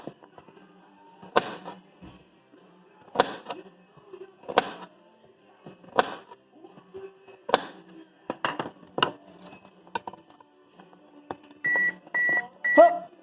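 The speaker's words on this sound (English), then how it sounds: "Oh, the oven is preheated." Kitchen oven sounds a run of short electronic beeps near the end to mark that preheating is done, following irregular thumps and clatter of food prep on a table.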